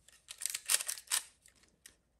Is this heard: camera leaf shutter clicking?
yes